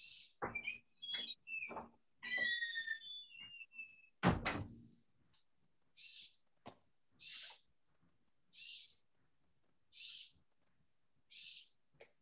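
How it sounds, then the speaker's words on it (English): A catbird calls in a series of short, bright chirps and mewing notes repeating every second or so, mixed with a few knocks and thumps nearby, fairly faint and with no talking. "Yes, it's the catbird."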